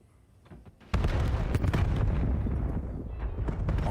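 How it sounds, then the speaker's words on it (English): Grenade explosions in a competitive first-person shooter match: after a quiet moment, a sudden loud blast erupts, followed by sustained booming and crackling with repeated sharp bursts layered on top. "All nades hitting mid."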